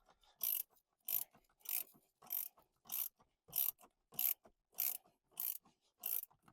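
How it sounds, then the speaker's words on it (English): A bolt is worked loose from the mount of a center console molle cage, giving about ten evenly spaced rasping, ratcheting bursts, close and fairly quiet, with no voices. "Now that we got the bolt removed,"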